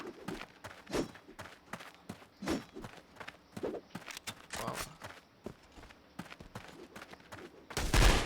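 Gunshots in a video game ring out as repeated sharp cracks scattered through the stretch, mixed with footstep-like thumps and a loud burst of fire at the very end.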